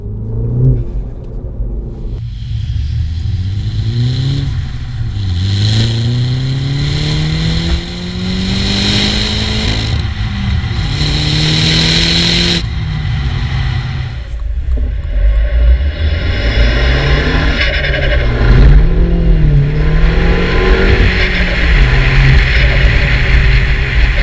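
A 2014-on F56 Mini Cooper S with its turbocharged engine and an Eventuri intake revs and accelerates hard through several gears, loud and close, with rising pitch sweeps between shifts and turbo whoosh on each pull.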